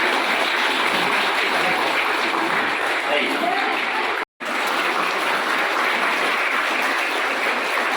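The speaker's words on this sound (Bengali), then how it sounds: "জোরে হাততালি।" Loud, sustained applause from a crowd at a school farewell ceremony, a dense wall of clapping that continues for the whole stretch apart from one very brief cut.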